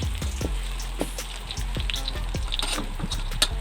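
Freshly pounded curry paste stir-fries in hot oil for a northern Thai salad, giving a loud, steady sizzle with scattered spattering pops and occasional scrapes of stirring, close and continuous.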